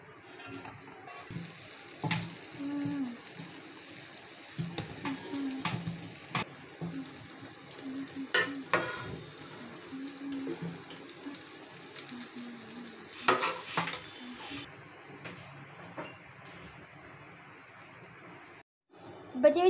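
A biryani pot has oil added to the rice, giving a steady low sizzle with scattered scrapes and spoon-on-pot knocks throughout, and a louder clatter near the end.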